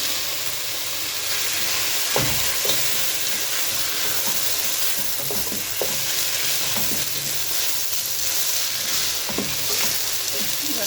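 Raw rice fries in a pot for chicken biryani, giving a continuous sizzle broken by scraping stirs and a few clinks of a utensil against the pot. No one speaks.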